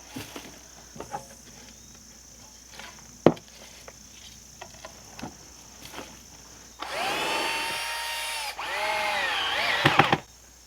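A power drill drives screws into a wooden garden bed on a homestead, two sustained whirring bursts near the end following scattered knocks and taps, with faint insect chirping in the background.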